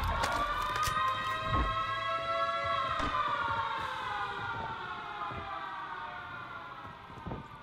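Sirens wail in a Call of Duty match at a prison, a loud sustained rising-and-falling siren tone continuing throughout, with scattered gunfire thuds and pops underneath.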